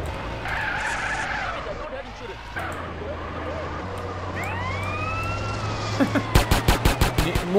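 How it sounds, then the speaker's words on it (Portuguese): Car tires skid and screech in GTA San Andreas, followed near the end by a rapid burst of loud gunshots, with a steady engine drone underneath and a voice speaking. "os caras já começaram a tiroteio"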